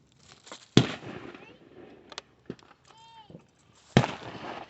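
Fireworks rockets at a county fair display burst with sharp, loud cracks, two big booms standing out among smaller pops and crackles, with people talking nearby and a rising whistle heard midway.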